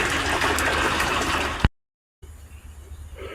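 Water gushes loudly and steadily while garden plants are watered, cuts off abruptly after a sharp knock, then leaves a quieter outdoor background.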